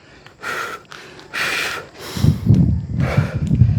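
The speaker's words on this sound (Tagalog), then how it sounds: "Hingal talaga ako." Heavy, ragged panting from a hiker out of breath on the trail up to a scenic viewpoint at Ambangonan, Pugo, with several close breath bursts and low rustling and footfall noise toward the end.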